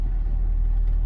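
Off-road vehicle spinning its tires on the Corkscrew Gulch trail near Ouray, Colorado: a brief, steady, loud low engine and drivetrain rumble close by, with no talking.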